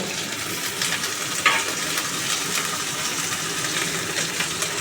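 Potatoes and pointed gourd sizzle steadily in hot oil in a pan, with an occasional clink of stirring.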